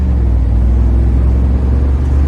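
A 1994 Chevrolet Camaro Z/28 driving on a road gives a loud, steady low engine rumble with continuous road noise and no distinct gear changes or voices.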